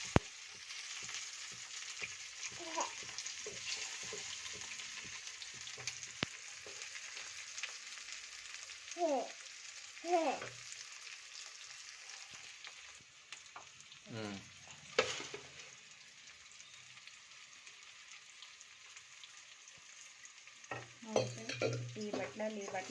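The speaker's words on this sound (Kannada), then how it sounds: "ಈರುಳ್ಳಿನ ಸ್ವಲ್ಪ ಕೆಂಪಗಾಗಿ ಹುರ್ಕೋರಿ" Onions fry in a pan for making vermicelli upma, giving a steady soft sizzle with scattered scraping and clinking stir strokes and a few brief bursts of voices in the background.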